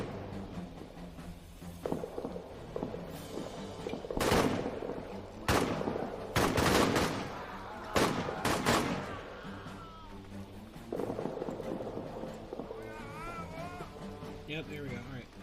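A war video game set in the trenches fills the scene with gunfire: bursts of shots and volleys, some loud and close and others more distant, over a steady rumbling backdrop, with someone talking across much of it.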